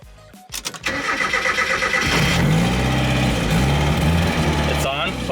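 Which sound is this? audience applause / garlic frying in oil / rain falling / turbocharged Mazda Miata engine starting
turbocharged Mazda Miata engine starting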